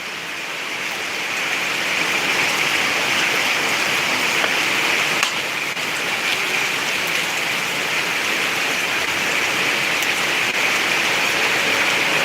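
Heavy rain pours down in Madurai, a dense, steady hiss of drops hitting surfaces that stays loud and unbroken throughout, with no voices over it.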